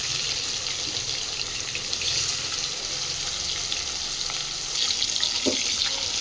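Pieces of stingray (shankar fish) fry in oil in a pan, making a steady, close hiss of sizzling with a few faint clinks and small bumps near the end.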